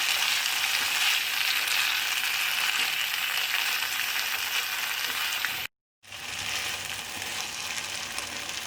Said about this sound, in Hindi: अब इसको मिक्स करके 10 मिनट मीडियम आंच पर पकाएंगे